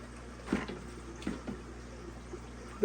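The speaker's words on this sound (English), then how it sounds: "Filling up with water." Aquarium canister filter filling with water after cleaning, faint gurgling and a few soft splashy trickles against a low steady hum, quiet and close.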